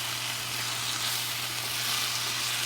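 A potato and cauliflower stir fry sizzles steadily in a pan on the flame while it gets its last mix, a soft, constant frying hiss with no voices.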